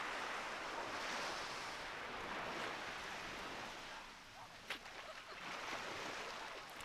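Waves on a beach, a steady broad wash of surf with wind, moderately faint and continuous, with a short dip and a brief sharper splash partway through.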